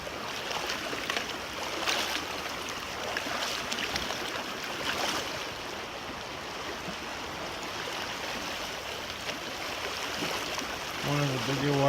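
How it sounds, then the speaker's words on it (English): Water rushes and churns steadily at a wide, deep crossing of Evolution Creek on the John Muir Trail, with splashing from wading, continuous and fairly close. "One of the bigger water crossings."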